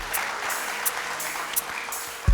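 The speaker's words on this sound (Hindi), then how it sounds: "बहुत सारी तालियां इनके लिए।" Studio audience applause on a Ramadan quiz show, a steady burst of clapping filling the room with a few sharper claps standing out, ending with a low thump.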